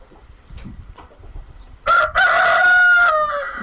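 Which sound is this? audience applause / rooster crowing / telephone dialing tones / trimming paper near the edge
rooster crowing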